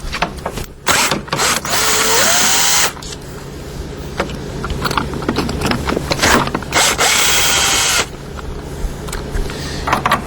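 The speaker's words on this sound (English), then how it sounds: "To remove that, I'm going to use a T30 bit and a driver." A power driver fitted with a T30 bit backs out screws holding an aluminum arm slide on an X99 unit, whirring loudly in several bursts with clicks and handling noise between runs.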